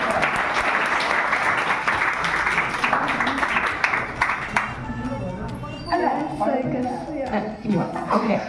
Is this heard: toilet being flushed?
no